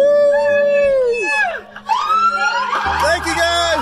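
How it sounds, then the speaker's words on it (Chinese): Police car sirens wail with long rising and falling sweeps, loud and close, a second siren overlapping as the convoy of patrol cars arrives for a boy's birthday, with voices mixed in. "开来了8辆警车。"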